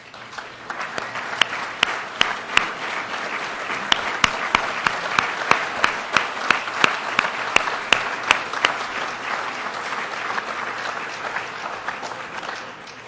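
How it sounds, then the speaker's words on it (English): An audience at an awards event claps for local town supervisors standing in the room, a moderate, sustained round of many hands with a few sharp, distinct claps standing out near the front. "so we can give you a round of applause for being here"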